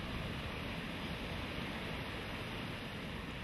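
The Thiou, a river carrying Lake Annecy's outflow through the town of Annecy, rushes in a steady, dense broadband roar of flowing water, close and continuous with no voices.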